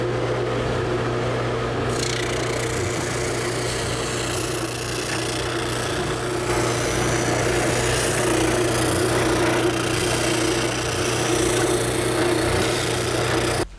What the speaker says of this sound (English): now I want to sand the contour of the shelf backboard